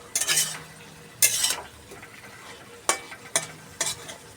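A utensil stirring a cooked pointed gourd and potato curry in a pan, several separate scraping strokes with bright clattering bursts spaced irregularly over a quiet background.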